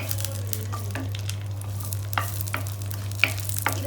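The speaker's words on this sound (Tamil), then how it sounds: "இது கொஞ்சம் நல்லா ஃப்ரை ஆகட்டும்." Small dried vathal chillies fry in a pan for curd rice, giving a steady low sizzle with a few sharp clicks and scrapes of stirring, close up and without talk.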